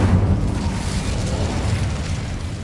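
A fire spell explodes in Hogwarts Legacy, a loud low burst and roar that fades into a sustained rumble with crackling over about three seconds.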